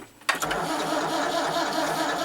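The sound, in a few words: Massey Ferguson 690 tractor engine starting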